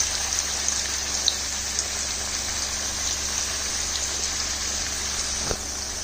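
Ridge gourd pieces go into a hot frying pan with lightly fried potatoes, raising a steady crackling sizzle that holds evenly from start to finish, close up with no talking.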